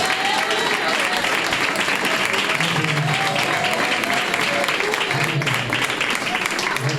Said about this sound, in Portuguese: As palmas que louvam.